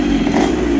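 A 1977 Honda CR125 Elsinore motorcycle engine idling loud and close with a steady, throbbing low drone, briefly.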